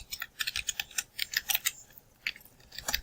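Rapid typing on a computer keyboard while entering text into an Excel spreadsheet cell, a close, crisp run of uneven key clicks with short pauses, heard alone.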